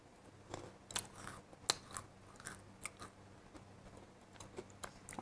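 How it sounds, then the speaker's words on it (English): Sharp crunching bites into a crunchy almond flake cookie, chewing crackles in irregular bursts, close and crisp against a quiet background with no talking. "I'm going to bite into it and let you listen to the crunch."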